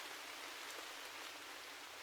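Steady, soft rain falls in an even, continuous hiss, close and unbroken, with no voices.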